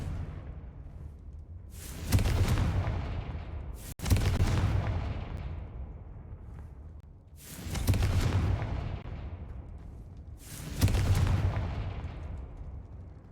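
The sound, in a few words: Confringo blasting spell explosions in a video game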